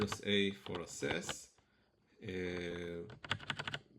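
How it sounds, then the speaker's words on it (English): A keyboard clatters with rapid, bright tapping bursts. A nearby voice talks in between and over the typing. "it's very loud, the tapping of the keyboard"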